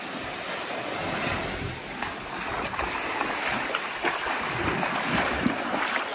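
Ocean surf washing steadily onto a quiet beach in southern Bali, a continuous broad roar of breaking waves with light wind buffeting the microphone, no voices.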